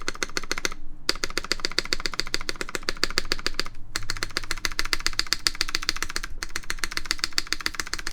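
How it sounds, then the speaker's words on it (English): Rapid, crisp key clacks ring out from a Hammerworks FMJ TKL mechanical keyboard as someone types close up. The steady patter stops for a moment three times, and no one talks. "My spacebar sounds pretty good."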